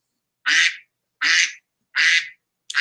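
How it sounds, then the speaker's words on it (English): A duck quacks loudly and close, four evenly spaced harsh calls with silence between them. "And the duck responds."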